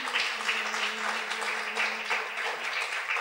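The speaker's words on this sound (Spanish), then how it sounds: "Les damos un aplauso a todos los que están metidos en la web." Applause at a family Shabbat ceremony, a fairly faint, continuous patter of clapping with a low steady hum beneath and no talking.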